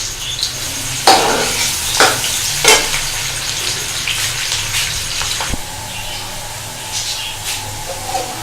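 Onions frying and browning in a pot for Pakistani vegetable pulao, a loud, steady sizzle with occasional stirring scrapes and bubbling pops.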